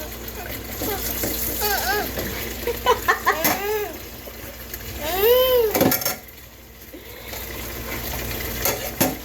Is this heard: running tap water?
yes